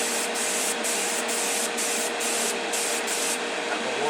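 An airbrush sprays enamel thinned with lacquer thinner onto a 1965 Impala, a loud, steady hiss that breaks into short bursts with brief pauses between passes.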